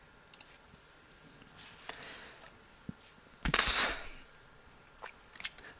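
Computer mouse clicking during a modding setup, with a few faint scattered clicks and one louder, longer clatter in the middle, heard close in a quiet room.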